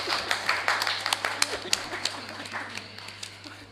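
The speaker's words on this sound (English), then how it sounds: "A round of applause" A small group claps at a meeting, sparse individual claps ringing out over a steady hum and thinning out toward the end, with some voices mixed in.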